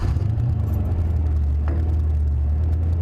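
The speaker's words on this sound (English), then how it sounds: "Let's go ahead, start her up." A Mercury Cougar's engine runs at a steady low rumble from inside the car, with a faint brief click partway through.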